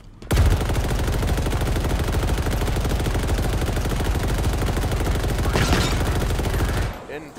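Sustained rapid automatic gunfire from a weapon in the Halo Infinite campaign, loud and continuous for about six seconds with a brief louder burst near the end, then stopping abruptly.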